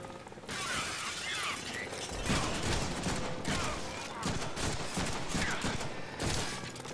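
Gunfire in the Deadpool video game: dense bursts of rapid shots and shattering impacts fill the scene, with a voice talking faintly underneath.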